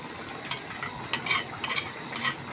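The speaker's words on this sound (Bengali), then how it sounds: "এখন মাছগুলো দিয়ে দিতেছি।" Fried small shrimp tipped into a simmering potato and eggplant curry in a covered pot, giving close scraping and stirring with short bursts of sizzle and splashing, and no talk.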